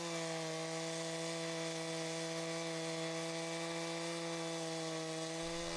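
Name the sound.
chainsaw sawmill sawing wood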